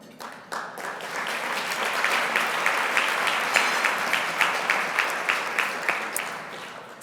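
Gala audience at an honorary scholarship awards evening breaks into sustained applause, dense clapping that swells quickly and holds, then thins toward the end into a few sharper individual claps.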